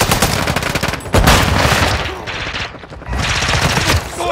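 TAQ-V battle rifle firing in Call of Duty, loud close bursts of rapid automatic gunfire in two long strings separated by a brief pause, with other players talking over the shots.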